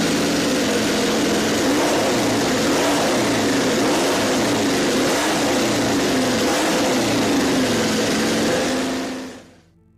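MotoCzysz C1 superbike engine revving hard and steadily for about nine seconds, a loud, deep, V8-like roar that rises quickly through the revs and then cuts off abruptly.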